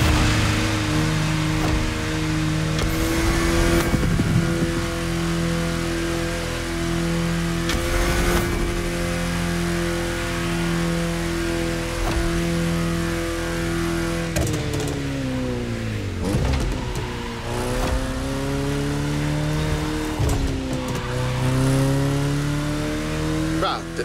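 A Volkswagen bus driven in The Crew Motorfest with a steering wheel: a steady mid-pitched engine drone that rises and falls with gear shifts and revs, continuous and close, with talking over it at times.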